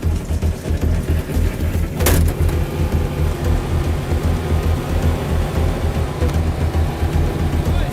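A tank's engine rumbling steadily as it drives along, a loud, continuous low drone with a brief sharp mechanical burst partway through.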